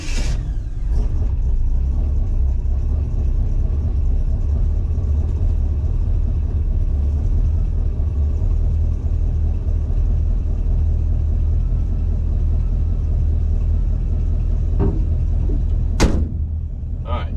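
Engine of a 1963 Chevrolet Impala with a freshly tuned ignition, a loud steady rumble running close throughout, with a couple of sharp clunks near the end.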